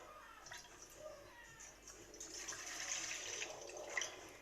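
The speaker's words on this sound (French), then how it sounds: "je verse mon lait" Milk pours into a bowl set on a kitchen scale, a quiet splashing trickle that thickens and grows louder toward the end.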